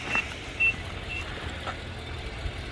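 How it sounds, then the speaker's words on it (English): A 2021 Nissan Armada rental SUV gives a warning for a missing key fob: two short, high electronic chirps early on over a low, steady engine idle hum. "Car beeping at me, let me know that it's lost the key fob."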